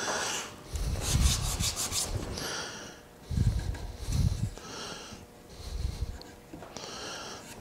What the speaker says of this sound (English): I'm just going to use the sandpaper.